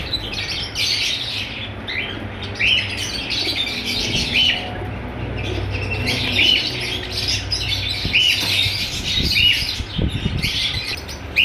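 Pure white Kasat pigeons kept as a breeder pair call in a loft alongside other caged birds, with steady chirps and squawks repeating over a continuous low background hum, loud and close.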